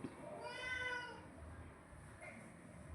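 A house cat gives one drawn-out, wavering meow close by against a quiet indoor background, then falls silent.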